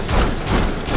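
Three sharp gunshots in a video game fire in quick succession within about a second, loud and close with little pause between them.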